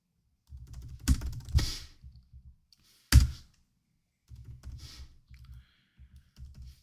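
Fortran code is typed on a computer keyboard, close key clicks in short runs with a few louder thumps and pauses between.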